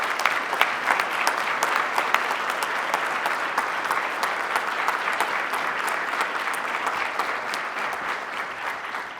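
A crowd at a regional awards ceremony honoring police officers applauds steadily, dense overlapping claps filling the room at full volume throughout.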